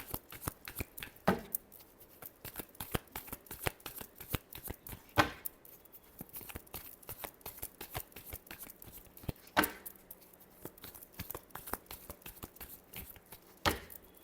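Tarot cards are shuffled by hand in a long run of quick, crisp riffles and taps, with louder sharp slaps every few seconds; the sound is close and quiet, with no talking.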